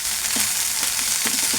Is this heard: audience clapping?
no